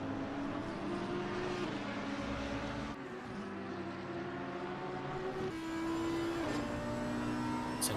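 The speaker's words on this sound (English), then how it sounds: "So what a noise this Audi makes." Audi race car in a sim racing game at a Belgium round, the engine a raucous continuous drone with shifting pitch as it changes gears and passes, loud and steady throughout, with no talk over it.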